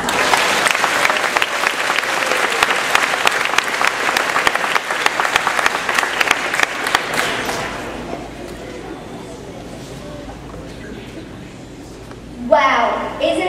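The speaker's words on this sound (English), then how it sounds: "give them a round of applause." Loud, dense applause from a crowd of parents and children at an elementary school STEM fall expo fills the first eight seconds, then dies away into quiet room tone before a voice starts.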